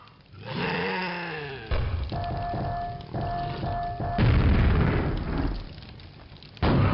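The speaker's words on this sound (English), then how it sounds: "Oh, minor grenades." Grenade blasts in the Quake VR mod, played on hard difficulty: a run of loud, booming bursts, with several heavy, ragged explosions in close succession amid game effects and tonal sounds.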